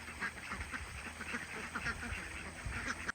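Geese honking repeatedly in short bursts near a pond, fairly close, over a steady outdoor background.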